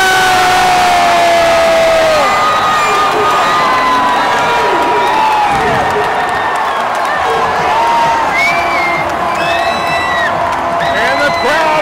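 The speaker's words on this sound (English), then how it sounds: "And the crowd goes nuts." Large stadium crowd at an Inter Miami vs Sporting KC soccer match roars and cheers loudly and continuously, with whoops and shouts layered over the dense wall of voices.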